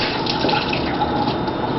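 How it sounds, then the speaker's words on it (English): Warm tap water running over hands and forearms during handwashing, a steady close splashing flow with gentle bubbling and drips, heard alone without talk. "put your hands up under the water, making sure you completely saturate your hands and your forearm"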